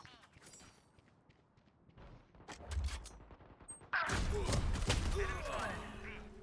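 Gunfire in a first-person shooter video game, with bursts of shots and thuds that swell into a loud, sustained volley in the second half while a player talks over it.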